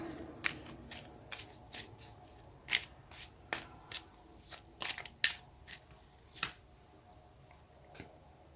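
Tarot cards shuffled and handled in a quiet room, a run of crisp riffling and slapping bursts at an uneven pace, close and fairly soft, the last few taps spaced farther apart.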